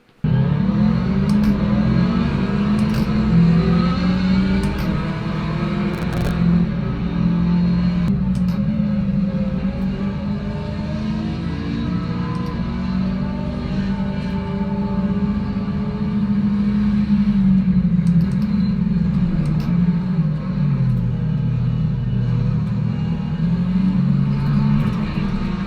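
Sim racing car engine in a racing game, a loud, steady droning whine that rises and falls in pitch as the car accelerates and shifts, continuing for the whole stretch.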